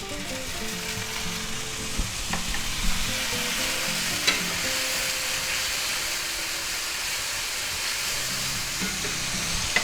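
Minced garlic sizzling in hot oil in a pan over medium-high heat, a continuous hissing fry with occasional stirring scrapes and light clicks, close and with no talking.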